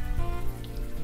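Steady rain falling at night in a Brooklyn street in the adventure game Unavowed, a continuous soft patter and hiss with no voices.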